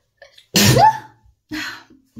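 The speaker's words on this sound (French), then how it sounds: "Ça me fait tousser à chaque fois. Tousser, éternuer plutôt." A single loud sneeze bursts out near the microphone, followed moments later by a softer second sneeze or sniff.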